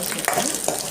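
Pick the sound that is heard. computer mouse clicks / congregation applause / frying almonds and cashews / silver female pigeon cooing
frying almonds and cashews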